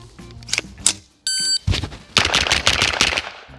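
A carbine fires full metal jacket rounds on a shooting range in several sharp, loud reports spread across a few seconds, with a brief electronic timer beep between shots.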